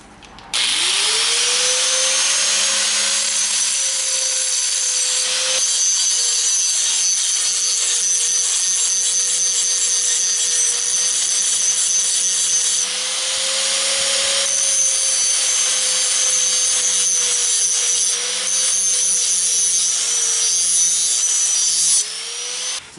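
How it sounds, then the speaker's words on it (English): An electric grinder works steadily on a metal brace, cutting it for a tighter fit: a continuous high whine that runs almost unbroken for about twenty seconds, with slight dips and a brief pause near the middle. "we got a little bit more grinding to do right here to get this a little bit tighter fit in"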